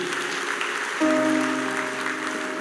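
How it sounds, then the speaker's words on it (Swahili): A church congregation claps warmly for a guest welcomed by a bishop, steady close applause joined midway by a sustained keyboard chord. "Pigieni wa Kamau makofi mazuri."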